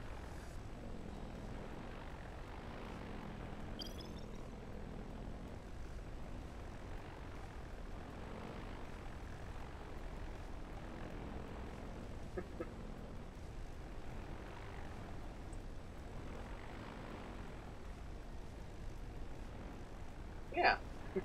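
A propeller-driven one-panel plane built in the Robocraft video game drones steadily, a faint, continuous engine hum with gentle swells and a few small clicks, no talk over it.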